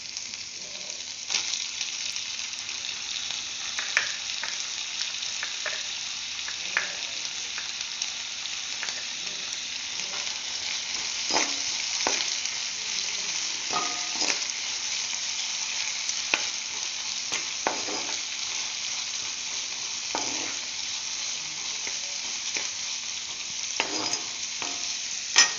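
Chopped tomatoes fry with spices for a dhaba-style egg keema masala, a constant loud sizzle through the whole stretch, punctuated by frequent clicks and scrapes of a spoon stirring the pan, with no talking.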